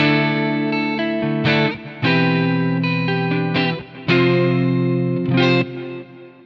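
An electric guitar through a Quad Cortex amp modeler with a Soldano tone plays sustained chords with a clean, slightly shimmering tone, each strum ringing out and fading into a roomy reverb tail, no voices present.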